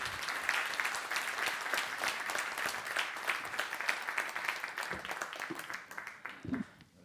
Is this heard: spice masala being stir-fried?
no